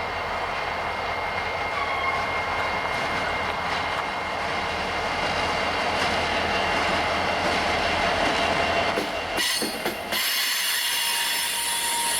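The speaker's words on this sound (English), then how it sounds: "Heading north out of Vardo is local train K80, which serves industries between Hagerstown and Shippensburg." Local freight train K80, hauled by SD40-series diesels with 19 cars, rolls north out of a Maryland yard. It gives a loud, continuous rumble of wheels with squeals and clatter, then ends abruptly as the last cars pass.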